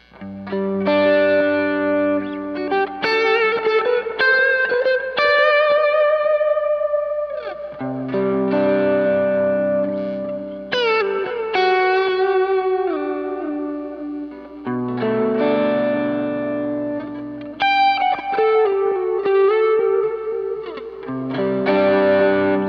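A lead electric guitar solo runs through an overdrive pedal with a little reverb added, with bent, sustained notes and quick runs that are loud and continuous, played alone without any talk.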